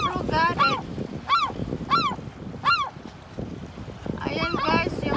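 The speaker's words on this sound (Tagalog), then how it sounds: "Come on, seagulls, get it." Seabirds calling at the shore, several loud honking cries in quick bursts, close by, with voices talking in between.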